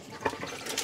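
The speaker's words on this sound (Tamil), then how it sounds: "என்னடா வித்தியாசமாக தண்ணி குடிக்குது." A dog laps up drinking water in soft, wet splashes, with a couple of slightly stronger laps standing out over a faint, continuous watery patter. There is no talking.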